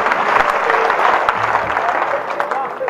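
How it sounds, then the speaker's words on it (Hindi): An audience at a Hindi poetry gathering (kavi sammelan) claps steadily, a dense, loud wash of applause that holds evenly for several seconds with no break. "हाथ उठा के ताली बजनी चाहिए साहब"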